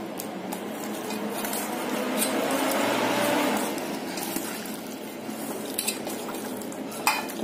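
Raw meat with fat being hand-mixed with salt, turmeric and mustard oil in a bowl for a marinade, giving steady soft squishing and stirring with faint clinks of a pot, no talking.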